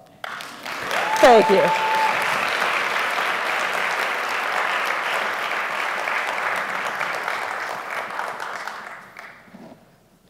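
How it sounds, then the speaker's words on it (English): A conference keynote audience bursts into long, loud applause that holds steady for several seconds before fading out, with a brief spoken remark near the start. "give me a round of applause"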